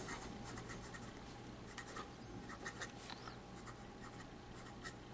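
A fountain pen with an oblique nib scratches green Pilot forest green ink onto paper in soft, brief strokes over a steady low background hum, quiet and close, with no voices.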